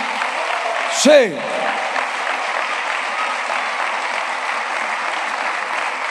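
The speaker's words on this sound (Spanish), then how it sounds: "Hay que aplaudirle más." A church congregation at a Sunday school service in a cathedral applauds steadily throughout. Someone says one short word over the dense, continuous clapping.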